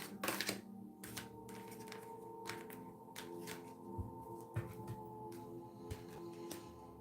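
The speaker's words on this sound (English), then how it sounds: "I just want to shuffle and see" Tarot cards being shuffled by hand during a live reading, a steady run of soft riffling and flicking, close and quiet, with a few sharper snaps of cards along the way and no talk.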